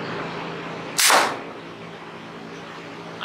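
A single sharp crack from a .357 air rifle fired at a groundhog outdoors, fairly close and loud, followed by quiet background ambience.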